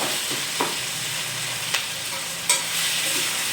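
Onions and tomatoes sauté in a pan with a steady hissing sizzle, broken by a few brief scrapes of a spoon stirring the mix.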